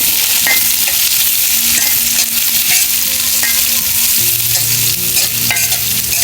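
Garlic, green chilies, bay leaf and chopped onion fry loudly in oil in a wok over a village stove, a steady dense sizzle with occasional stirring scrapes and clinks, no voices.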